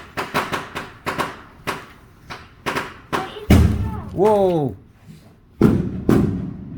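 Fireworks going off outside, heard from indoors as a rapid series of sharp thumps and bangs, with a couple of heavier booms later; people talk and exclaim over them.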